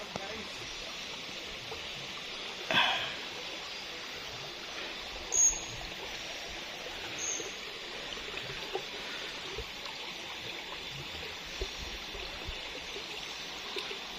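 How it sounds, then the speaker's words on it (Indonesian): A small river stream flows at a confluence in a cool pool spot, producing a soft, steady rushing wash throughout, faint and continuous, with a couple of brief louder knocks and scrapes over it. "ada pertemuan ya sungai kecil tuh"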